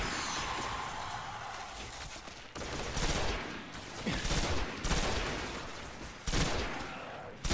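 Dense video game gunfire from Destiny rattles in continuous bursts and volleys for several seconds, loud and close with sharp repeated blasts.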